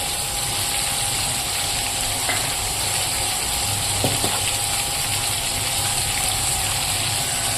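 Something frying in hot oil until lightly browned, heard as a steady, dense hiss of sizzling with faint metallic clicks now and then and no voices.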